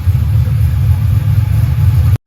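A Pontiac GTO's engine runs after sitting for about a month, a loud, steady, low idle rumble close to the car that continues evenly before cutting off abruptly.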